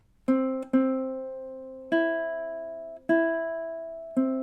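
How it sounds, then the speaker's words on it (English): Plucked ukulele strings ring out one at a time in a slow, even rhythm, each note sustaining and fading before the next pluck. "So 8 in time is just using all the open strings"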